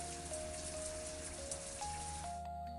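Steady indoor shower spray hissing and pattering against a surface, a continuous, fairly even wash of falling water with a faint tonal hum underneath, no voices.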